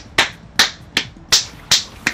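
Six sharp hand claps, evenly spaced with a brief pause between some, crisp and close with nothing else heard.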